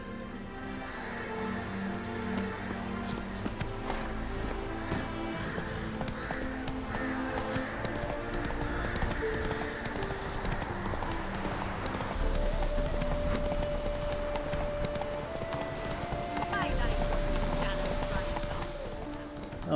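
Galloping hooves of Roach, Geralt's horse in The Witcher 3, drumming steadily and close, mixed with in-game music while someone talks over them.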